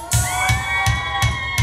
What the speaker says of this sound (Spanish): ¡Mujeres, un grito!